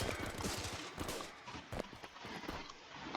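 Rapid gunfire in the online shooter game Kour.io, a dense run of quick, crisp shots rattling in bursts at moderate volume.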